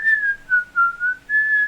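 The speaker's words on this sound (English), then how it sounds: "I like the whistling in this part." A clear, close whistled tune in short sliding phrases with brief gaps, from a scene in a Snow White film, heard alone with no talk over it.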